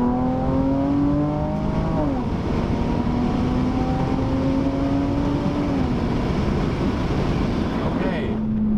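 A Dodge Challenger V6 pulling hard in second gear, its engine drone loud and close and climbing steadily in pitch, with brief dips as revs shift before rising again.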